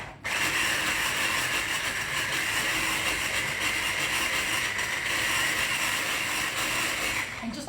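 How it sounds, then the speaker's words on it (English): A small electric hand mixer whirs steadily through a sugar-free pavlova mixture, a close, loud, even motor drone that starts abruptly, holds for about seven seconds with no talk, then cuts off. "So I'm going over to my little hand mixer."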